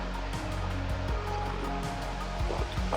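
A creek flows steadily nearby on a camping morning, its broad rushing wash constant throughout, with faint low thumps and bumps underneath.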